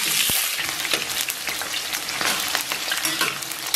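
Chopped scallion and ginger hit warm oil in a wok and fry with a steady, bright sizzle, punctuated by scraping stir strokes, close and continuous, with no talking.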